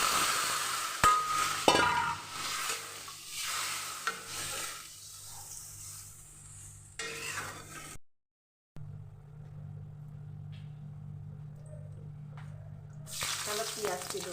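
Vegetables and onion stir-fried in a pan, a steady sizzle with scraping stirs that drops out briefly near the middle before resuming, with a low engine-like rumble running underneath.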